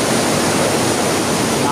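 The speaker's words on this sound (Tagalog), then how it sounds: "Napakalakas ng ano, agos ng tubig ng Wawa guys." Powerful rushing water pouring over Wawa Dam, a steady dense roar of broadband noise, loud and close, with no break or change across the moment.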